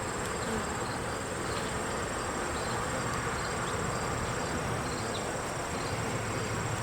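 Agitated honeybees swarming around an opened hive with frames of brood, a dense continuous buzzing drone close to the listener, steady and loud throughout, no talk.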